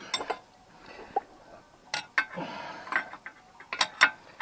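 A wrench works on a bolt on the suspension wishbone bushings of an Opel Frontera 2.2 DTI, giving sharp metallic ratchet clicks and clinks in short irregular bursts close by, with quiet pauses between them.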